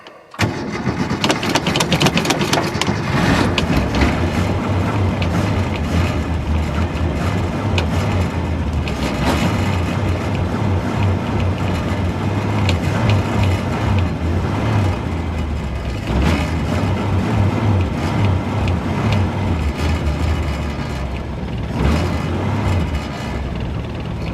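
A Ford Falcon engine cranks and catches, then runs steadily and loud with a rough, uneven idle and a low rumbling throb throughout, with no talk.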